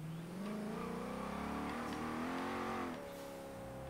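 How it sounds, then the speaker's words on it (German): A car in Forza Horizon 3 accelerating from around 110 km/h, its engine note climbing steadily in pitch for about three seconds before dropping as it shifts, loud and close with no talk. "Jetzt gebe ich einfach mal Gas."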